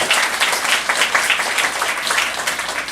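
A church congregation at a Saturday worship service breaks into loud, sustained applause, dense clapping filling the room from start to finish.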